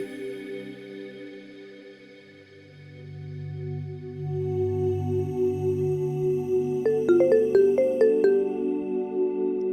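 A phone rings with a repeating electronic tone, growing louder over a sustained droning background, alone without talk.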